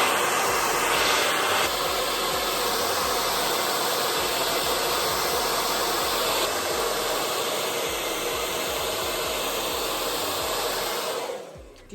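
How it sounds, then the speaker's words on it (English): A hair dryer blows steadily on a wig, a loud continuous whooshing hum held close for most of the time before cutting off abruptly at the end. "I'm just going to blow dry that"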